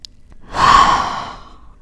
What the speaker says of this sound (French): On prend 2 grandes respirations.